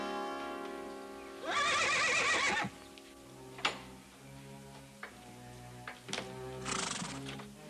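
A horse on a western ranch gives two loud, shrill whinnies several seconds apart, with scattered hoof knocks and clicks in between.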